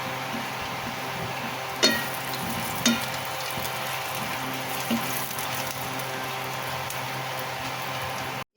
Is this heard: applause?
no